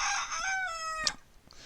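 A rooster crows once, a long harmonic call that rises and trails off, followed by a brief cluck, close and fairly loud.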